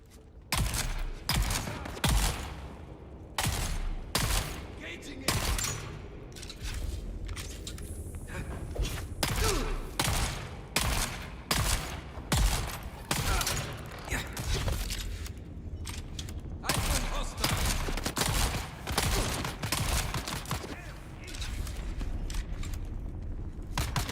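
Shotgun blasts fire repeatedly in Dune Awakening combat, loud sharp booms in irregular bursts alongside mechanical clacks and creaks, with dense battle noise between shots.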